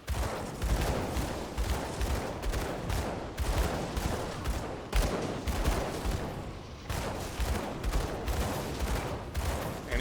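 Rapid gunshots from a gunslinger build shooting a boss in Path of Exile, repeated bursts of dense, loud firing in quick succession with brief gaps, no talk.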